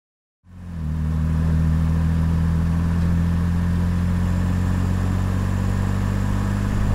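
BMW E9 3.0 CSi, a 50-year-old classic coupé, starting up and settling into a steady, loud, even idle with a deep throbbing hum that continues without pause.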